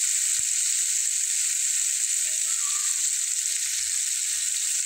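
Seasonal winter vegetable frying in a pan of oil, a steady bright sizzle that holds evenly throughout, with a couple of faint stirring knocks beneath it.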